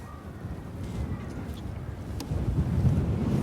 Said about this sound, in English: The wind is buffeting me.